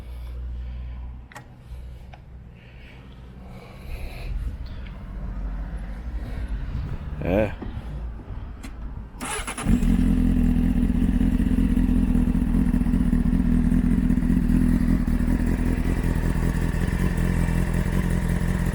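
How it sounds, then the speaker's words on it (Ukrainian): Quiet clatter and fiddling, then a Honda CB600 Hornet motorcycle engine fires up abruptly and settles into a loud, steady running rumble for the rest of the clip. "Зараз ми ще його заведемо, послухаємо, погазуємо."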